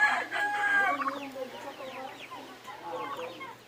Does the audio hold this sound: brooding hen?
yes